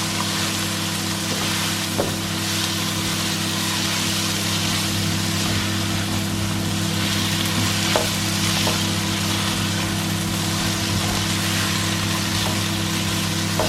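Tomato paste sizzling loudly in a frying pan for shakshuka, a dense, continuous hiss and crackle close up with a steady low hum underneath, no talking.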